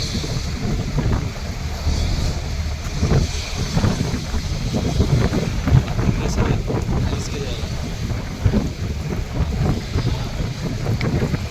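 A boat cruises through a seaport past the berths, with a steady engine and water rumble and heavy wind buffeting the microphone. Voices are faintly audible beneath the constant noise.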